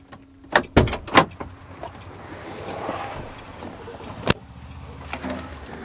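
A truck cab door opens and slams shut as the driver climbs down, giving a few sharp knocks and clunks early on, then a quieter stretch of low rumble before one more loud bang and faint handling noises.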